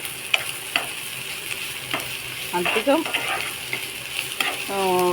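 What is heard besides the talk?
dried prawns frying in oil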